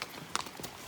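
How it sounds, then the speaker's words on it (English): A horse's hooves clip-clopping along a hiking trail on the Camino Francés, a few close, quiet, irregular steps with no voices. "That horse seems determined to stay like 2 or 3 horse lengths back."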